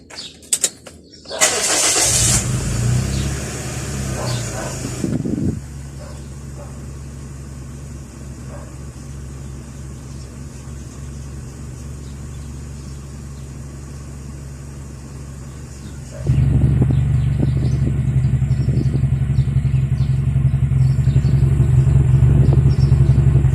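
A Toyota Vios engine with a stumbling, jerking fault cranks and catches, then idles with an uneven, lumpy rumble before revving up louder and holding a rough, steady drone; no talking.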